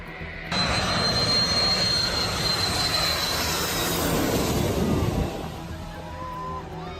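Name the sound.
jet airplane on low landing approach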